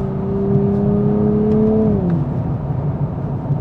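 A 2023 Nissan Z with an automatic gearbox blips its engine on a downshift as rev matching kicks in, a strong steady engine tone that holds, then drops in pitch and settles into a low rumble, heard from inside the car without talk.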